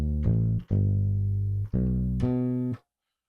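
A sustained instrument note pushed an octave higher by a pitch-shifting effect sounds in three close, loud held tones, each breaking off briefly before the next, then stopping into silence.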